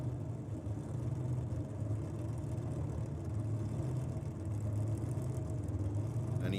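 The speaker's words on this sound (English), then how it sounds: "Love the sound of a clutch car." A steady, low engine drone from a clutch-equipped nitro drag racing car, heard at some distance at a quiet level, holding a fairly even note throughout.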